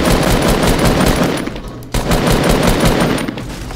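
Rapid automatic gunfire from the video game Fortnite, loud and dense, with sustained bursts of shots that break off briefly midway and then resume just as fast.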